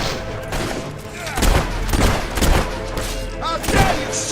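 Volleys of gunfire in Fable 3 battle, repeated bursts of shots and thuds at moderate loudness, with shouting voices between them.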